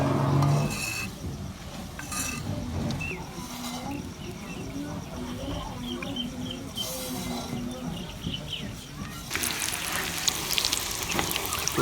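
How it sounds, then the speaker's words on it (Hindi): Coated cauliflower pieces fry in hot oil with a steady, close sizzle that runs throughout, joined by occasional clinks and stirring of utensils. "इसकी साइड को भी अच्छी तरह तकरीबन 1 मिनट के लिए फ्राई करेंगे।"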